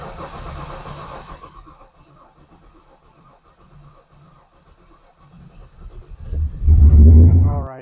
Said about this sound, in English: I'm going to do a real quick start of just the existing mini starter style so you can hear it to get an idea how fast it cranks over